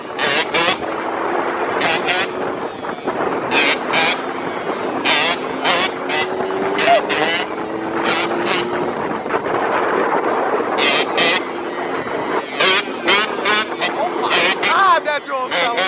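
Two-stroke dirt bikes drone and rev on grass during first-gear wheelies, a raspy engine tone rising and falling under frequent wind buffeting on the microphone and excited shouting voices.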